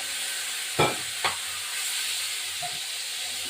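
Spice paste with tomato stirred in a frying pan, giving a steady low sizzle with two brief louder scrapes of stirring near the start, no voices.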